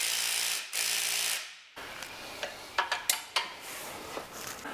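A power tool whirs steadily and then cuts out, followed by sharp metallic clicks and clanks as bolts go onto a car differential during a diff welding job, heard close up with no talk.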